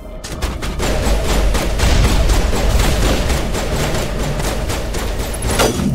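Rapid, dense sniper-rifle gunfire fills a firefight in the video game Mass Effect Legendary Edition, shots cracking continuously and loudly over rumbling battle noise with no let-up for about six seconds.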